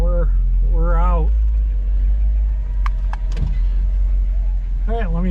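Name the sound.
car pulling out of garage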